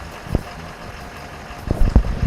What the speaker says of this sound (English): you can start the car from outside, love that feature, so we thought we'd just show you again